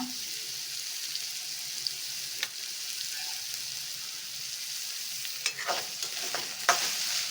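Radish greens frying with salt in a pan, a soft steady sizzle with occasional scraping stirs and utensil taps toward the end, close and unaccompanied by speech.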